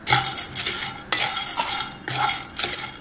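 Pumpkin seeds, sunflower seeds and peanuts are dry-roasted in a pan, stirred in about three rhythmic bursts of close scraping and rattling, with seeds skittering against the metal and no voices.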